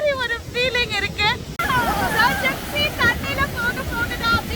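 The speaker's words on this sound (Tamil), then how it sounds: "இந்த விண்டோட சவுண்ட், அலையோட சவுண்ட் இருக்கு." Wind and ocean waves at Chennai beach make a steady broadband roar beneath a woman's speech, which runs through most of the stretch.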